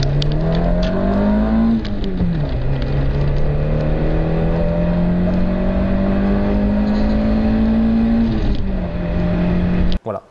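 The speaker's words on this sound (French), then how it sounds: "ce moteur Peugeot est rageur, vous en met plein les oreilles" A Peugeot 405 Mi16 youngtimer's four-cylinder engine drones loudly up close, its pitch climbing and dropping as it revs, with the sound cut off abruptly at the very end.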